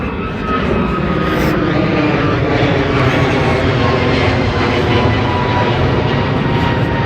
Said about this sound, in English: I think every single plane is taking off now